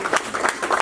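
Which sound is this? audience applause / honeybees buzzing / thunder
audience applause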